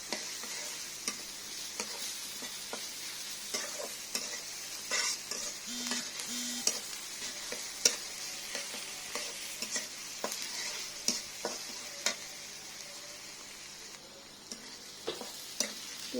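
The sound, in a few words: stirring onions frying in a pan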